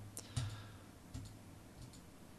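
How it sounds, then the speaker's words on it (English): Several sharp key strikes on a computer keyboard, a few separate clicks spaced irregularly over a faint steady hum, close and fairly quiet with no talking. "You're going to have to listen to me pound on some keys."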